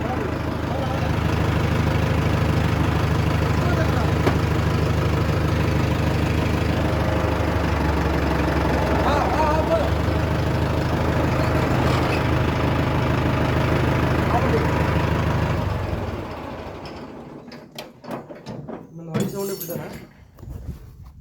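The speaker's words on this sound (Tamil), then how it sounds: "JCB sound." A JCB machine's diesel engine idles steadily and loudly for about sixteen seconds, a constant low rumble, then cuts away to quieter, uneven clatter and knocks toward the end.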